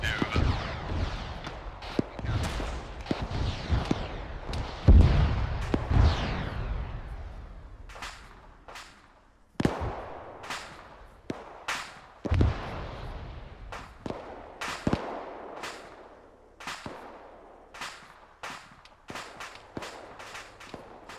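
Mortar fire and explosions in a military video game arrive as a series of sharp, loud blasts, each followed by a decaying rumble. They come at irregular intervals, some close and heavy, others more distant.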